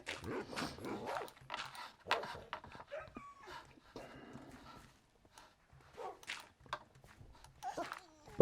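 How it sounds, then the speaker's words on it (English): Dogs in a video game bark and pant in scattered bursts, with clip-clop hoof sounds mixed in and brief pauses between the sounds. "Yes, we found about a zillion dogs."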